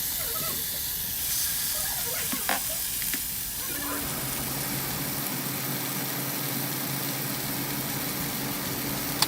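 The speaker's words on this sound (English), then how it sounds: "Then cook them on your flat grill." Lobster tails sizzle on a flat grill, a steady, close frying hiss that stays loud throughout, with a low hum settling in under it partway through.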